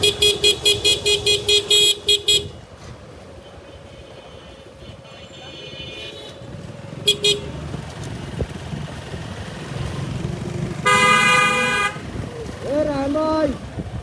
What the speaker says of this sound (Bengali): আপনার হর্ন দেখে আমি চিনছি